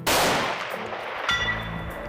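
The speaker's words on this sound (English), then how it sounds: "Bob was shooting Steve's Bergara Custom .338 Winchester Magnum, topped with a new Eliminator 3 laser scope" A single loud, close rifle shot from a Bergara Custom .338 Winchester Magnum topped with an Eliminator 3 scope, firing Corbon 225-grain TDPX bullets on a Colorado hunt. The blast rings out and decays slowly, followed by a faint metallic ring.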